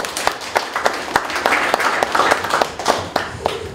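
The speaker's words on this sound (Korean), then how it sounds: "박수 한번" Scattered applause from a seminar audience at a CEO-course lecture, a sparse run of individual claps at uneven intervals rather than a dense roar, moderately close and with no talking over it.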